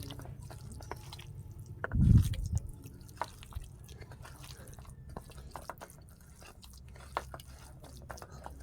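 Mashed taro leaves being kneaded and mixed by hand, giving soft wet squelches and small crunchy squishes close by, with one louder squish burst near the start and quiet sporadic sounds afterward.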